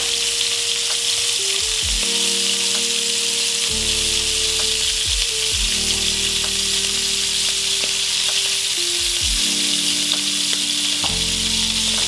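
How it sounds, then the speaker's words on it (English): Meat browning in a frying pan gives a steady, loud sizzle and crackle throughout, with a low, shifting tonal hum of music running underneath. "You can see the corners of the meat there beginning to get nice and brown."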